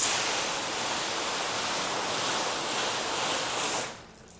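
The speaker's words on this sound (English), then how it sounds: "Now, we'll spray this with a mist and we'll show the beading phenomena." A spray bottle misting water onto a car body panel, a continuous broad hiss lasting about four seconds before cutting off.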